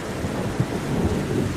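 A thunderstorm with heavy rain, a dense, steady wash of rainfall with low rumbling thunder underneath, continuous and fairly close throughout.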